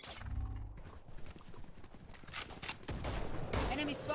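Gunfire from the Valorant video game, a rapid run of sharp shots mixed with other game effects, with a voice talking over part of it.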